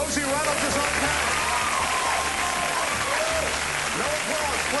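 A crowd at a lively event breaks into continuous applause, with cheering voices rising over steady, dense clapping.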